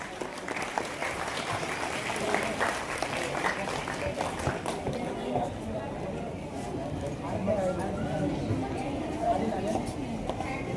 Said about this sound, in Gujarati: તાળીઓ થઈ જાય આ વિદ્યાર્થીઓ માટે.